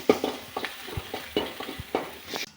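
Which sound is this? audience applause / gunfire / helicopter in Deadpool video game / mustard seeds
mustard seeds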